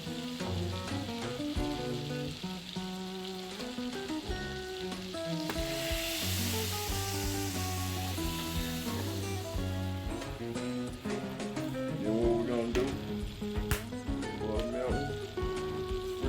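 Potatoes fry in melted butter in a pan for breakfast hash, giving a continuous, close crackling sizzle with occasional stirring that runs under melodic background music throughout.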